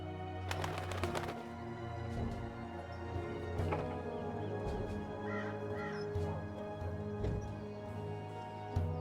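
Crows cawing in the video game Dreamfall Chapters, several harsh caws over a low ambient drone with occasional clattering and flapping, moderately quiet, no talking.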